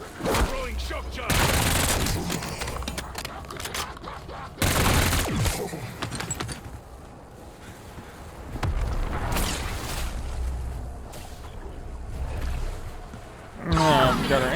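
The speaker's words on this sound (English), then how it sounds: "Throwing shock charge." A shock charge is thrown and detonates in a video game set in Liberty Falls, with several loud bursts and crackling blasts spread across the stretch amid ongoing game noise.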